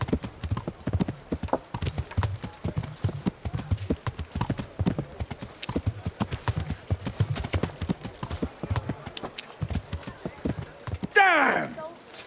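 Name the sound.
horse hooves while riding, from the video game Kingdom Come: Deliverance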